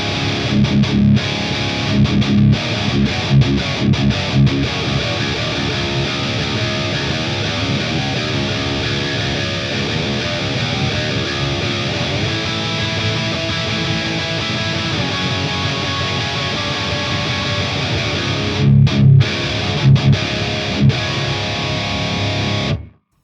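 Heavily distorted electric guitar, an ESP LTD SC-20 through an Axe-Fx III preset, plays chunky rhythm chords with palm-muted chugs, loud and steady for over twenty seconds, with brief pauses near the end.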